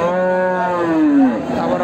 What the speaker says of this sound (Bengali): গরু আসছে,